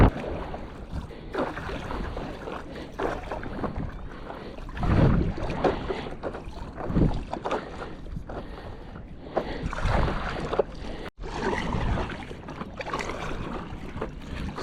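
Stand-up paddleboard crossing choppy water between two hills near Ponta da Farinha, paddle strokes splashing in irregular surges amid sloshing waves and gusts of wind buffeting the microphone.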